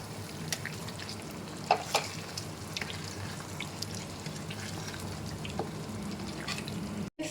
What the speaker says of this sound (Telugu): సో పెరుగు యాడ్ చేశాక సో ఇదంతా బాగా మిక్స్ చేసుకోండి